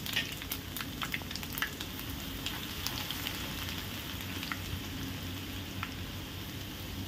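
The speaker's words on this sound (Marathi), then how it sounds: "7 ते 8 कढीपत्त्याची पाने, 7 ते 8 ठेचलेल्या लसणाच्या पाकळ्या छान परतवून घेऊ" Curry leaves and crushed garlic cloves fry in hot oil in a pan, giving a steady, soft sizzle with scattered crackles and pops throughout.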